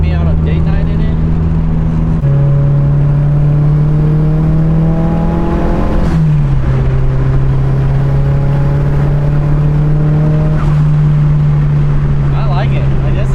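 A Nissan S14 street car driving under load, its engine note droning steadily with rising harmonic sweeps as revs climb and shift, turbo boost building, loud and close throughout with a voice talking over it.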